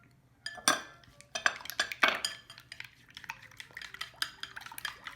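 Eggs beaten with dashi and light soy sauce in a bowl, quick clinking and scraping of utensil against the bowl in irregular bursts, close and fairly quiet, with no voices.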